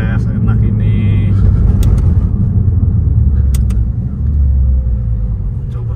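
A BMW M4 G82 engine and exhaust hum in a low, smooth rumble from inside the car, steady with slight swells, under people talking.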